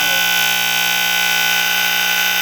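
A KF Industries Model 535 gas and smoke detector sounding its alarm, a loud, continuous harsh buzzing tone held steadily throughout, close and alone.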